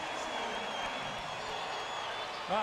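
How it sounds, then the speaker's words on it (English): A basketball arena crowd reacts with a sustained, broad roar after Dennis Rodman picks up his third foul in a Chicago Bulls versus Orlando Magic game, and a voice breaks in at the very end. "you can hear the reaction from the crowd as Rodman has just picked up his 3rd"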